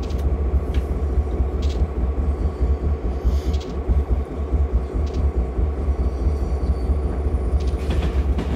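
Steady diesel rumble of a Union Pacific GP38 locomotive running on the Hollister Branch in Train Simulator, a continuous loud low drone with rhythmic rail clatter and occasional faint higher clanks throughout.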